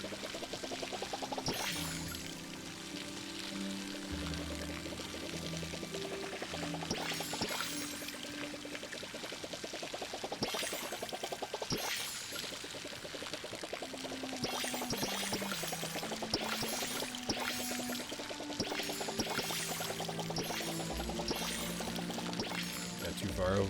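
Water pouring onto crops in the farming game Palia, a steady splashing flow over light background music, with a person talking over it.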